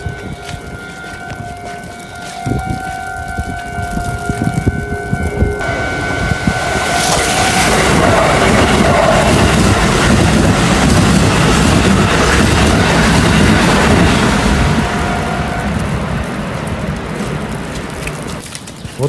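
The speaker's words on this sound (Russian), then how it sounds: "Сейчас поезд проедет." A train rumbles past nearby in Tokyo, the broadband roar swelling to a steady peak for several seconds and then fading, with tonal horn-like hums early on.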